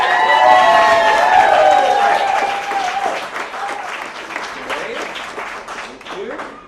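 An audience at a science slam applauds, a dense, loud wash of clapping and cheering that stays steady for several seconds before easing slightly.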